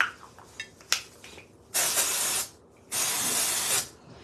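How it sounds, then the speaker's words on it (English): Two long close bursts of Style Revival dry shampoo aerosol sprayed onto hair, each a steady hiss lasting under a second, after a few faint clicks and taps. "Dry shampoo. This is the Style Revival dry shampoo."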